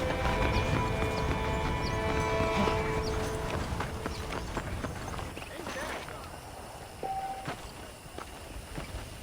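A horse clip-clops at a walk in the Red Dead Redemption video game, a steady run of hoof beats over ambient outdoor sound, with a brief tonal chime near the end.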